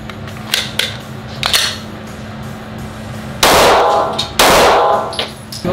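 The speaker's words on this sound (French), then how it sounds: "on va tirer donc à peu près 5 mètres avec une arme, donc un Glock 45 avec les deux mains" Two sharp, loud gunshots from a Glock 45 pistol fired two-handed at about five metres on a range, coming one second apart with a short ringing decay, after quieter clicks and handling sounds.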